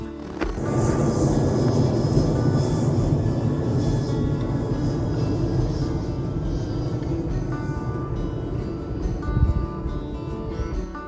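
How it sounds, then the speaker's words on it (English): A loud, steady roar of an airplane passing low overhead near an airport, sustained throughout with a slight swell near the end. "Other than the planes going overhead, which is to be expected because we're so close to the airport"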